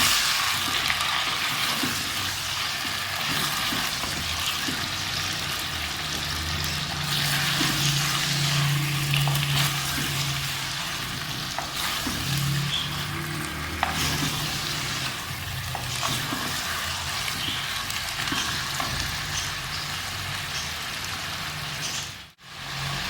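Chicken meat frying in a pan, a continuous close sizzle with occasional stirring clatter throughout, steady and fairly loud with no talking.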